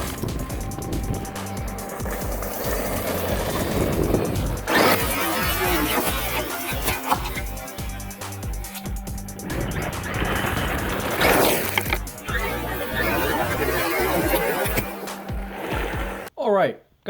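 Traxxas Maxx RC monster truck revving and accelerating hard on gravel, a loud buzzing electric motor whine with crunching gravel, rising in several surges, while someone talks excitedly over it.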